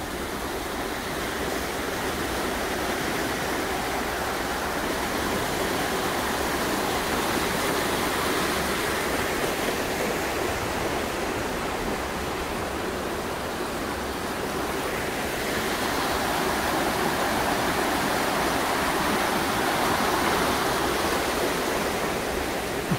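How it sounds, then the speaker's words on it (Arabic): The Staubbach waterfall near Interlaken pours steadily, a dense broadband rush of falling water holding constant and fairly loud throughout, with no voices. "شلال ستوباخ"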